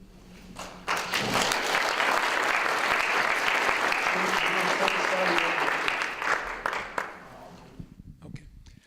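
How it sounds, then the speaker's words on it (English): A room full of people at a career luncheon claps steadily for several seconds, loud and dense, then the applause tapers off into a few scattered claps. "how about one more round of applause for our three panelists who gave up their time today?"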